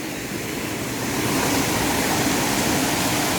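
Keralamkundu waterfall in Kerala rushes with a loud, close, steady roar of falling water that barely changes from start to finish.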